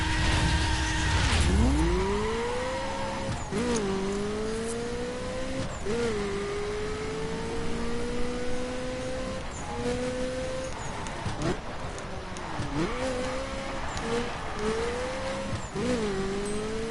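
Ferrari F40 LM racing along the West Coast in The Crew, engine note rising and falling through repeated gear changes, with shifts every couple of seconds, tire noise underneath, no one speaking.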